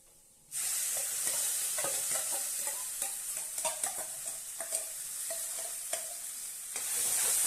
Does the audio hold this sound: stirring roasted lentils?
yes